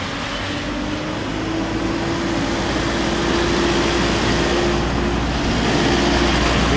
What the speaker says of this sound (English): here's James's 420 SEL once again, in beautiful nick